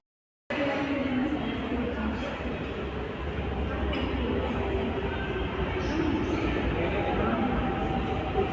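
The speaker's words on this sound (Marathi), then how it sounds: "आता हे बघा तिथून मेट्रो आली" A Pune metro train rumbles into a station, a steady close roar of wheels and motors that starts abruptly and holds level, with crowd chatter and voices in the background.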